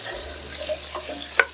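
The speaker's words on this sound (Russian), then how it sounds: "Обжариваю картофель на среднем огне примерно минут 5." Soft, quiet sizzling of large potato pieces frying in a pan over medium heat, with a brief scrape or stir near the end, no voices.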